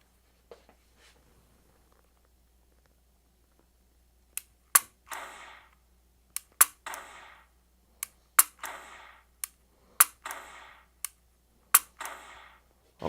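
Five sharp .45 caliber handgun shots fired at a target from about ten feet, each a loud crisp crack followed by a short reverberant tail, spaced roughly a second or two apart after a quiet start.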